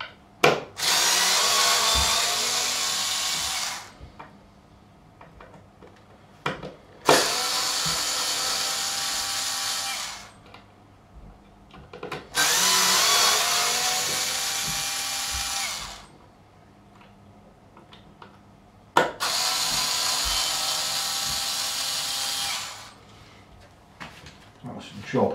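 Power tool on a Ibanez Roadstar II RG200 guitar, cutting the neck free from an MDF board: four loud sustained whining bursts of several seconds each, separated by short quiet pauses.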